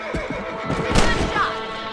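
A rifle shot in Red Dead Redemption rings out amid a horse's whinny, one sharp crack with a short tail, mixed with game voices speaking.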